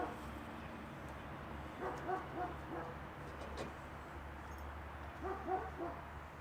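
A dog barks a few times in the distance, faint bursts rising over a steady low background hum.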